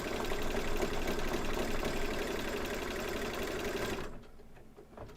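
An embroidery machine stitching a haunted house quilt block runs steadily with a fast, loud mechanical whirring and needle chatter, then stops abruptly near the end, leaving quieter room sound.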